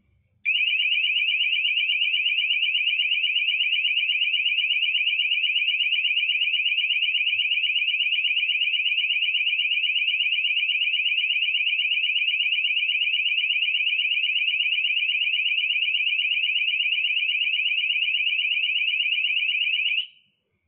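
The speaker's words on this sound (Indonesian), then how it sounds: "alarm bekerja lalu otomatis mati sendiri" A motion-sensor alarm emits one continuous, piercing high-pitched electronic tone for about twenty seconds at steady loudness, then cuts off abruptly. Nothing else is heard.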